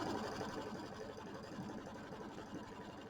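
A sewing machine runs steadily, stitching batting down onto a small mini quilt, with a continuous close mechanical hum and rapid needle rhythm throughout and no talking.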